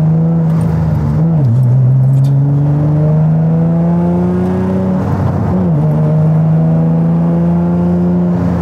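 A Nissan 350Z sports car engine holds a loud, steady drone that climbs gradually in pitch, with two brief dips where the revs drop and recover, close and continuous with no talk.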